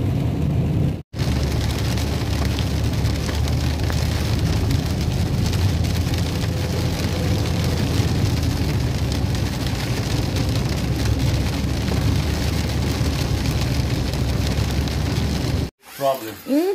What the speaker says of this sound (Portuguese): Tá chovendo, então a gente tá indo devagar.